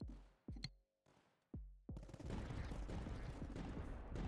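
Artillery shells fire and land in the tower-defense game Tower Dominion: a few sharp, booming shots with short decays, then a dense, continuous barrage of overlapping blasts.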